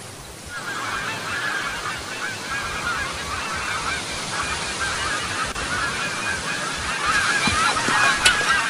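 A bird honks like a goose, repeated calls carrying over a steady background, moderately loud and fairly close, with no speech.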